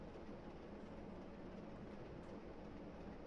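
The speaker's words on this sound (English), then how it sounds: "So I'm going to let the train coast right now as we approach that 50." A train on the East Coast Main Line in a train simulator game, coasting uphill toward Northallerton: a steady low rumble with faint rail clatter, continuous and even throughout, with no voices.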